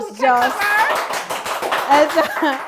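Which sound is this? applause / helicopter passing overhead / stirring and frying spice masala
applause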